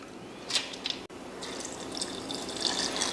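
Water poured into a grinder while making a breakfast batter: short splashy bursts, a brief gap, then a sustained trickling pour with bright splashes, moderately close and heard alone.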